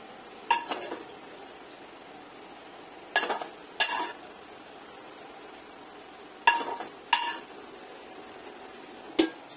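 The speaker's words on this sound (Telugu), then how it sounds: "ఎగ్ ముక్కలు ఇందులోకి వేసుకోవాలి." Chopped egg pieces being stirred into egg fried rice in a metal pan, with six sharp clinks and scrapes of a spoon against the pan spaced irregularly over quiet kitchen background.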